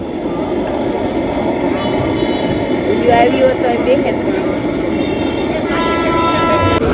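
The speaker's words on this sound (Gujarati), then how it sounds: "અમારે બી આખો દિવસ આ ટ્રેન નો અવાજ આવે, પાવા વગર એનો અવાજ આવે" A train rolls past near homes in Haridwar, a continuous heavy rumble of rail wagons with a loud, sustained horn sounding near the middle, while people talk close by.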